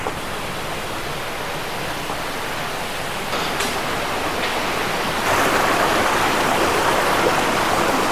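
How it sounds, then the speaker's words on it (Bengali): Steady broadband rush of a waterfall beside a hill path on Parasnath, in stormy rainy weather, continuous and close, growing louder partway through with no voices. "যে ঝর্ণাটার আওয়াজ পাচ্ছিলাম, এই হচ্ছে সেই ঝর্ণা"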